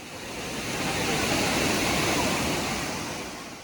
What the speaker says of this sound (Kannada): ಒಂದು ಸುಂದರವಾದ ಪುಟ್ಟವಾದ ಒಂದು ಜಲಪಾತ ಸಿಕ್ತು